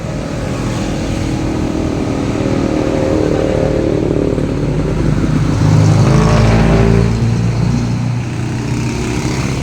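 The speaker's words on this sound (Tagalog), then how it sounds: "Highway." Continuous highway traffic roars past at a roadside spot, with cars and motorbikes rumbling by in overlapping waves and one louder vehicle swelling and fading midway.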